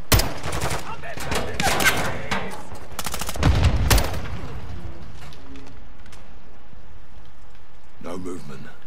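Bursts of M4 rifle fire in the Call of Duty Modern Warfare campaign, dense rapid shots over the first four seconds mixed with game voices and effects, then quieter ambience with a final short burst near the end.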